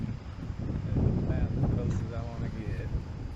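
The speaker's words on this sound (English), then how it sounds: "Pretty windy here right now." Steady wind buffeting a microphone along the Pacific Coast Highway, a low rumbling roar that persists throughout alongside a nearby voice.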